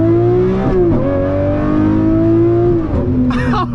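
Lamborghini Murcielago SV V12 engine pulling hard under acceleration, a loud rising howl that breaks twice for gearshifts before climbing again, heard from inside the car with no talking.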